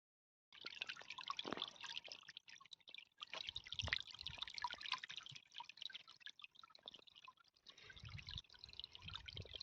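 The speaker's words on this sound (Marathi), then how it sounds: "कस काय पाण्याचा आवाज येत आहे" Rainwater dripping outdoors during a night and day of rain near a sheep herd, rapid irregular drips and trickles, fairly faint and close, with no voices.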